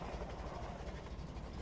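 A train rumbles close by in Half-Life 2, a steady loud rolling roar with faint rhythmic clatter that holds evenly throughout.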